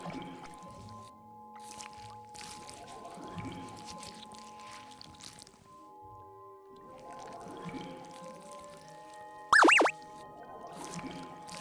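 Soft watery swishes and gentle splashes come in slow recurring waves in a calm audio roleplay bathing and cleansing scene, with a brief sharper plop near the end, all at low level.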